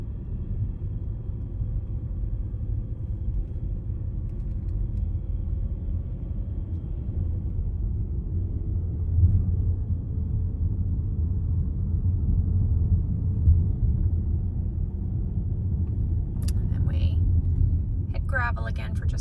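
Car driving along a gravel road in Western North Carolina, a continuous low rumble of tyres and engine with someone speaking briefly near the end.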